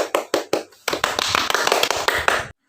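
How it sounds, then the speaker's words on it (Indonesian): Classroom applause for a presenting student group: a few separate claps at first, then a dense, fairly close burst of hand clapping lasting about two seconds before stopping abruptly. "Berikan tepuk tangannya."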